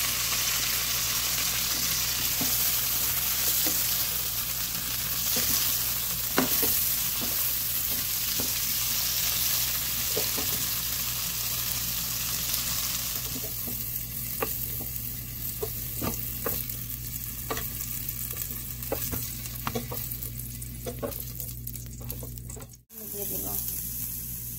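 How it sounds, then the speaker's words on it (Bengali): Eggplant pieces frying in a pan, a dense steady sizzle with frequent clicking spatula strokes as they are stirred, and a voice speaking faintly now and then. "তাই আমি বেগুনটা পরে দিব আর একটু ভেজে নিব।"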